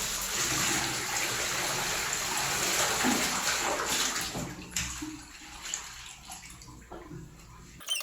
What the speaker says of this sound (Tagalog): Tatanggalan natin ulit yung tubig.